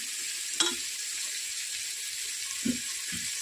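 Turmeric dropped into hot oil with moth beans in a pan, giving a steady loud sizzle with a couple of brief spoon taps, close by.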